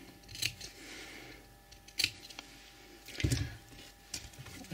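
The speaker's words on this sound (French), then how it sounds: "on va faire des petites coupures, surtout cet endroit, juste pour pouvoir plier la marge de couture" Scissors snip small cuts into the seam allowance of fabric while sewing a decorative bow for a wedding dress: a few sharp, quiet snips spaced about a second apart, alone.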